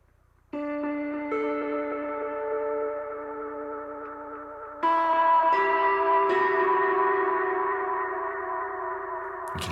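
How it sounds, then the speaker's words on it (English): Ambient pedalboard guitar tones swell in as sustained, bell-like chords with a slow auto panner at medium-high depth, drifting gently while a second layer enters midway and lifts the level. "So I introduced an auto panner with a really slow rate and a medium high depth."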